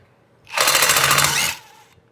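A power tool backs screws out of the block of a Go Power Sports Rascal GT Cruiser, giving a single loud, close burst of rapid rattling whir lasting about a second before cutting off, with no talking.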